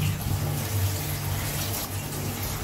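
Tap water runs steadily as tomatoes, green chillies, garlic and ginger are washed under it, a faint continuous gush with a low rumbling flow throughout.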